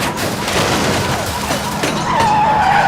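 A police car rams a suspect's Cadillac and spins it out, producing loud tire skidding and scraping with engine noise, ending in a rising tire squeal.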